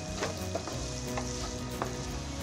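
Onion frying in a pan for tofu bhurji sizzles steadily and close up, with a few soft stirring scrapes breaking through the constant crackle.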